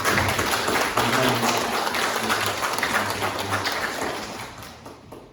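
A church congregation applauds their pastor after the Sunday sermon, a dense wash of many hands clapping that holds steady and then tapers off, with a faint voice murmuring underneath.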